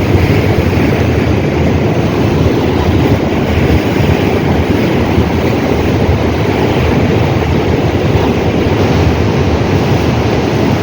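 Big waves roll and crash onto a Hong Kong shore in a loud, continuous roar of surf, close and unbroken, with no voices.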